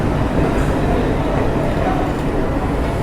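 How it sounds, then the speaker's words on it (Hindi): A passenger train hauled by a Ludhiana-based locomotive rolls into a station, producing a loud, steady, close rumble with continuous low-frequency roar throughout. "ये लुधियाना के लोकोमोटिव के साथ कोई तो ट्रेन यहाँ पे पहुँच रही है"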